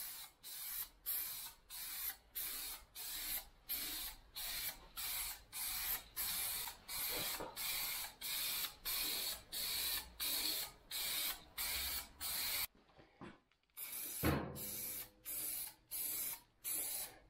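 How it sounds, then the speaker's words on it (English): A spray paint can with a poor nozzle hisses in a garage, in regular bursts of about half a second separated by short gaps, close and fairly loud, with a longer pause and a clatter near the end. "The nozzle isn't the best nozzle I've had on a spray can, that's for sure."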